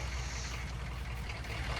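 A truck engine idles in a farming simulator game at Marksville with a low, steady, throbbing drone and no speech.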